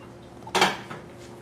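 A baking dish set down on a surface gives a single short clatter that rings briefly and fades in a quiet kitchen.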